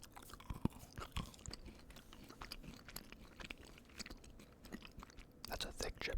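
A chocolate chip cookie chewed right up against the microphone: wet, crunchy bites and steady mastication with soft mouth clicks, intimate and quiet, with no talking.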